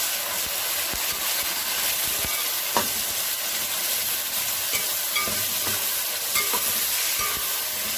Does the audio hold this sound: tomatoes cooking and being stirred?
yes